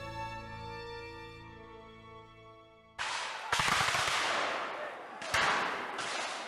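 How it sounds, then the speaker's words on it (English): A volley of musket fire in a Revolutionary War battle at an entrenchment near Bennington: a sustained, loud crackling burst of many shots erupting after a sustained musical tone, with a second sharp surge of firing shortly after. "A violent volley of fire erupted against the entrenchment"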